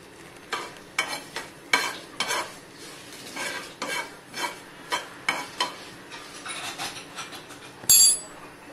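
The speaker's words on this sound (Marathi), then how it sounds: "त्यासाठी धणे, जिरे, बडीशेप आणि या लाल मिरच्या भाजून घेतोय" Coriander seeds, cumin, fennel and dried red chillies dry-roast in a pan, stirred with a spoon in a steady series of scraping, rattling strokes roughly every half second, ending on a louder metallic clink.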